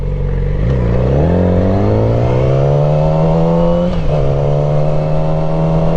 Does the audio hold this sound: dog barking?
no